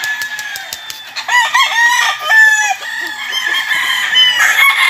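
Gamefowl roosters at a gamefarm crow repeatedly in long rising calls with clucking between them, several birds close by and loud without pause, with no talk over them.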